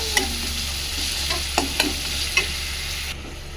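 Grated vegetables with coriander, salt and turmeric powder frying in a pan for a chutney, a steady close sizzle with a few sharp stirring clinks and scrapes, no talking.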